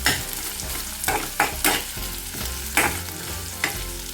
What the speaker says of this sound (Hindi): अब इसको फ्राई करना है हमें थोड़ी देर के लिए।